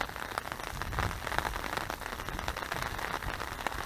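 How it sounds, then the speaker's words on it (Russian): Steady rain patters on surfaces at a feeder fishing competition, a dense, even hiss of countless close drops continuing without pause and with no voices. "Друзья, дождь идет,"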